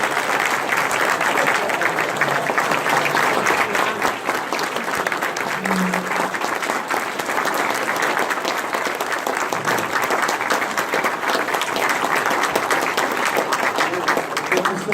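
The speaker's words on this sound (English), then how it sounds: "Can I have a round of applause for these folks?" Sustained applause from an audience at a panel discussion during a museum exhibit opening, steady dense clapping lasting the whole stretch.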